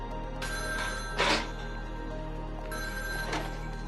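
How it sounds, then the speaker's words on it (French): A telephone rings alone in two bright trilling bursts separated by a pause, moderately loud and close, with no talk over it. "Et puis son téléphone sonne."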